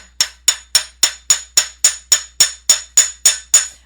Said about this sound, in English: we're going to hammer um, these pieces. Okay, so chasing hammer, bench block, and just hammer